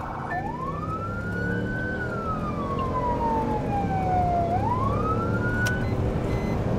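A police car siren wails in a long rising and falling sweep, loud and close, over a steady engine hum, as a patrol car responds in Nye County, Nevada.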